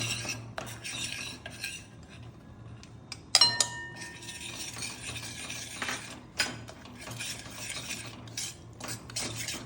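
Millet flour being stirred as it roasts in a pan over medium gas, a steady run of scraping, clinking utensil strokes against the metal with irregular louder knocks, up close and with no talk.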